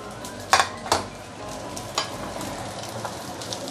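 Whitebait fish frying in a hot pan for fried rice, a steady close sizzle with a few sharp clanks and scrapes of a utensil stirring against the pan.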